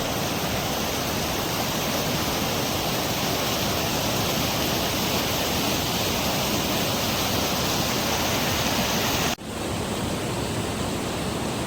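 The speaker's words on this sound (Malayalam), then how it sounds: "നല്ല ഫോഴ്സിലാണ് വെള്ളമൊക്കെ പോകുന്നത്" Rain-swollen river water rushes forcefully over rocks in a loud, dense, unbroken roar that fills the whole clip, with a brief dip near the end before the torrent continues.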